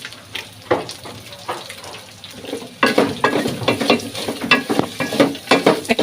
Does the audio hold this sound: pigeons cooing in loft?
no